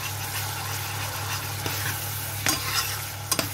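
A spoon stirs a large spoonful of concentrated tomato paste into red sauce frying in a pot for Algerian mtewem, with a steady low sizzle and a few sharp scrapes and knocks near the end. Nobody speaks.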